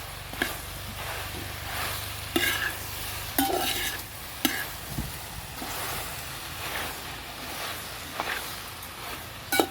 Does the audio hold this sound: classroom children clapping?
no